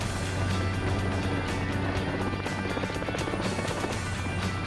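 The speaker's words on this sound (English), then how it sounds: "With the helicopter prepped and ready to go" Helicopter rotor and turbine drone, loud and steady with a rhythmic blade chop throughout, from a 1999 Los Angeles County Sheriff's air rescue helicopter prepped for a mountain base camp run.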